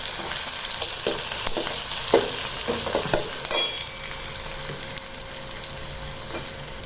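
Onion, garlic and cumin frying in hot oil with curry leaves for a South Indian tempering, a steady loud sizzle with occasional stirring clatters of a spoon against the pan, no voices.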